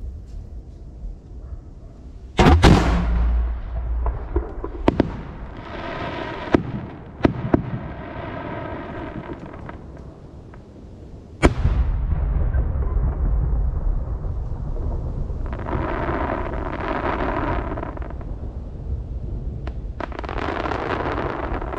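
Japanese fireworks shells launched at a festival in Yamanashi, with sharp booming bursts at irregular intervals followed by crackling, rumbling trails that fade between blasts, loud and close.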